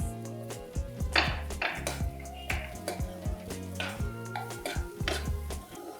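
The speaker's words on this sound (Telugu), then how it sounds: "ఇవన్నీ కొంచెం లైట్ గా ఫ్రై చేసుకుంటే బ్రౌనిష్గా వచ్చే వరకు ఫ్రై చేసుకోవాలి." Chopped vegetables and colourful bell peppers scrape and stir in a pan as they fry toward brown, with short utensil scrapes repeating over steady musical tones.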